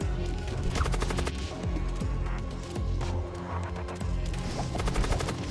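Ship weapons firing in the space strategy game Void War, a dense barrage of rapid gunfire-like bursts and impacts layered over a steady droning background throughout.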